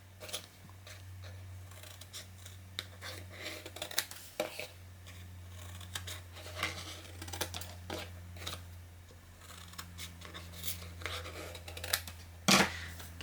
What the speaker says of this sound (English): we're going to cut in at an angle and out at an angle.